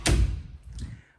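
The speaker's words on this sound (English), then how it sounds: "This is the door to the closet. So let's open it." A closet door in an empty apartment shuts with one close, solid thud, followed by a short fading rattle and settle.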